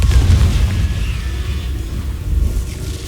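Confringo blast spell going off in the Hogwarts Legacy game, a loud booming burst with a heavy rumbling low end that rolls and swells through the whole stretch, with a second surge near the end.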